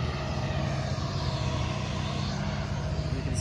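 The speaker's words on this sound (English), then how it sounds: "There's a helicopter going up." Continuous broadband rotor and engine roar of a helicopter passing overhead outdoors near a hospital, steady and fairly distant throughout.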